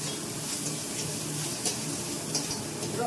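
Garlic frying in hot oil with bay leaf and cumin, a continuous close sizzle with light crackles and no talk.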